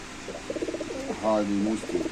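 Grizzle pigeons coo in soft, throaty bursts close by, with a voice speaking over the cooing.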